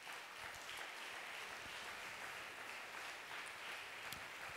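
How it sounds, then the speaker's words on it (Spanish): Congregation applause at an evangelical church service: steady, continuous clapping from a crowd, heard at a moderate distance and fairly soft, with no talk over it. "Dale un fuerte aplauso a Jesús"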